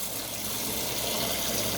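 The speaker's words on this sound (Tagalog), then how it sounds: "Lagyan lang natin ng konting tubig." Water pours steadily into a pot of washed mung beans, a continuous close gushing splash with no talk, in a home kitchen.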